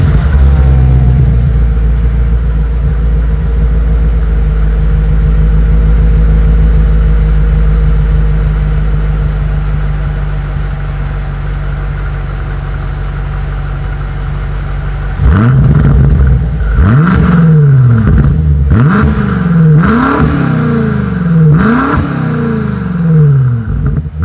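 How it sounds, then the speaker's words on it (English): A 2020 BMW M8 exhaust, first idling with a steady low burble, then revved hard about five times in quick succession, each rev rising and falling sharply, loud and close. "Here is that 2020 BMW M8 exhaust"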